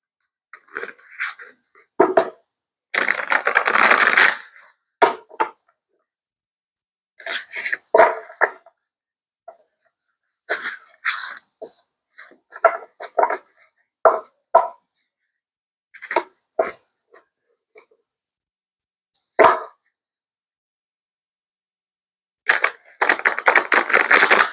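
A thick deck of cards shuffled in repeated sharp bursts, each flurry of snapping and riffling separated by silence, close and fairly loud.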